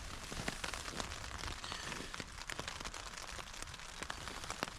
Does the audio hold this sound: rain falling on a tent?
yes